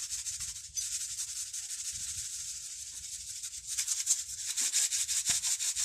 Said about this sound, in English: I'm gonna shake it up real good, make sure that the flux is coating all of the material.